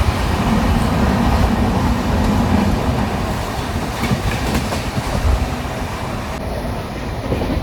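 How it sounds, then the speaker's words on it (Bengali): A Vande Bharat Express train runs at speed with a loud, continuous rumble and a steady rhythmic clatter of wheels on rails, heard without any talk. "ট্রেন তো গাইস আমাদের জমিয়ে স্পিডে টানছে"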